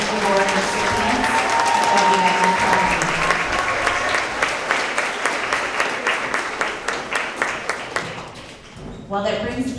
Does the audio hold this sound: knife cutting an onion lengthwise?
no